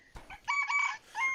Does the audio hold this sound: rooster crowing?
yes